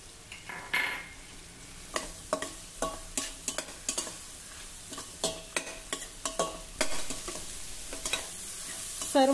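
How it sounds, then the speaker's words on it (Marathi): Mixed vegetables with turmeric, red chili powder, Byadgi chili and kasuri methi sautéing in a pan, with a soft steady sizzle broken by repeated scraping stirs at an uneven rhythm, close and alone. "सर्व भाज्या मसाल्यांसोबत परतून झाल्या, अगदी मस्त मऊ झाल्या आहे"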